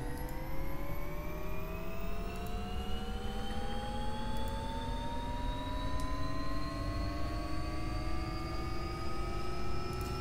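Turbine engine of an AW-139 helicopter spooling up in the X-Plane 11 flight simulator, a steady loud whine with tones rising slowly over a constant low rumble, no talk.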